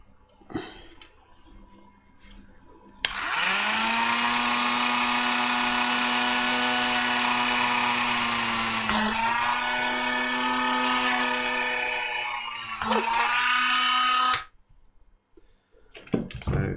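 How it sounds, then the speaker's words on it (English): A small high-pitched Dremel rotary tool with a one-millimetre bit whines steadily for about eleven seconds, drilling cockpit simulator parts, with slight changes in pitch as it bites, then stops abruptly; quiet before and after. "just simply going to do that with a, a one mil drill bit on a Dremel"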